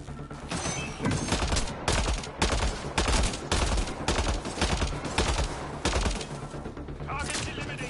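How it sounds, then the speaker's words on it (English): Rifle fire crackles in the video game Mass Effect: Andromeda, a rapid series of loud, sharp shots in bursts that continue almost without pause for several seconds, up close and dominant. "I hear a rifle."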